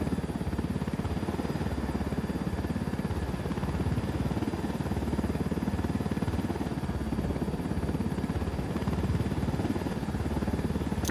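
Helicopter in Ghost Recon Wildlands, a steady rotor drone with a constant buzzing whine, loud and unbroken for about eleven seconds, with no voices over it.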